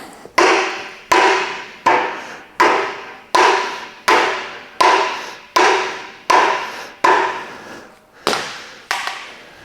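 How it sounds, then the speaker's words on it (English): A soft-faced dead blow hammer strikes a Nissan Patrol rear axle part during a rebuild, giving about a dozen evenly spaced, loud, close thuds with short decays. "You get a soft-faced hammer, dead blow or something."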